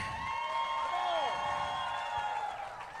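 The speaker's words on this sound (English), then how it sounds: "let's get loud for Ben Milliken." At a Bassmaster Opens bass fishing tournament weigh-in at Toledo Bend, a crowd cheers and whoops at moderate distance, with rising calls and whistles over a steady wash of crowd noise.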